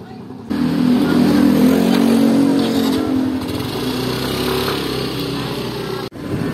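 A motorcycle ridden along a road on a chilly day gives a steady, close engine drone that holds at an even level throughout and dips briefly near the end.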